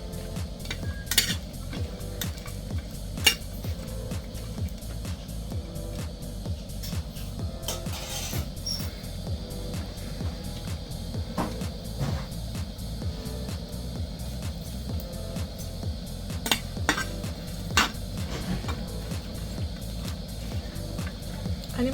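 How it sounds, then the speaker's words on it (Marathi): Green chilies dry-roasting without oil in a frying pan over low gas, giving a faint steady sizzle with occasional scraping and clinks of a utensil against the pan, close by. "ह्या मिरच्या बारीक गॅसवर आपण अशा भाजून घ्यायच्या आहेत। तेल न टाकता अशाच त्या मिरच्या भाजून घ्यायच्या आहेत।"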